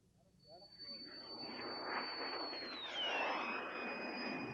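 A BD-5J home-built jet makes a low, fast pass at about 350 mph on its 1985 first flight in Kenosha, Wisconsin. A loud rushing roar builds, and its high whine drops sharply in pitch as the jet passes close by.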